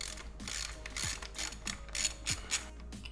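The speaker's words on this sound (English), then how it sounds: "So we'll go ahead and remove the studs here." A ratchet clicks close up and fast while removing the coil pack studs from the valve cover of an LS2 engine, a steady run of quiet pawl ticks with no speech.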